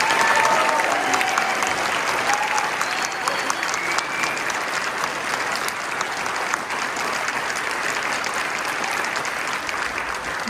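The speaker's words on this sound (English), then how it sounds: "Please give them a huge round of applause." An audience at an information session applauds its speakers with loud, sustained clapping that fills the room evenly for about ten seconds.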